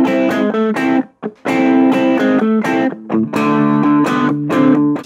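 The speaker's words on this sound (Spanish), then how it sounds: "Ahí te enchufé la guitarra al ampli y le puse la distorsión a tope." An electric guitar played through an amplifier with distortion turned all the way up chugs out loud, saturated palm-muted chords in choppy bursts, a thrash-metal style riff with brief gaps between phrases.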